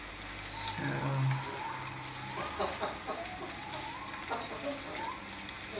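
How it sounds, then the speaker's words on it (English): A pet parrot chatters in Dutch, short squawky vocal bursts and clucking sounds at close range, fairly quiet, mixed with light household noise. "you hear my parrot talking?"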